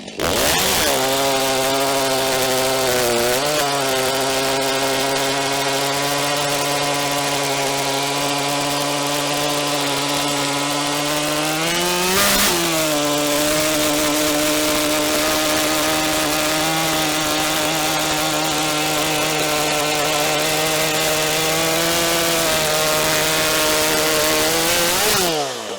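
A new STIHL MS 400.1 chainsaw bites into ash timber at full throttle, a loud, close, sustained high whine that dips briefly as the bar loads and recovers, continuing to the end of the cut.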